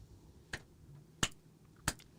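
Three sharp, isolated hand claps land about two-thirds of a second apart, near and crisp, over a quiet room background with no talk.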